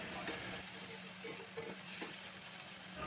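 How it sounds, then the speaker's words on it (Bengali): Potatoes and onions with turmeric are stirred in a pan over a low, steady sizzle, with occasional soft scrapes and taps of the spoon, fairly quiet overall. "হলুদটা ভালোভাবে আলু পেঁয়াজের সঙ্গে মিশিয়ে নিচ্ছি"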